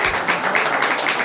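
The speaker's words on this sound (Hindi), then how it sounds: "बार ताली बजा दो प्रतीक्षा के लिए" Applause from a stand-up comedy audience fills the short stretch, a steady dense wash of clapping at close to moderate loudness with no break in it.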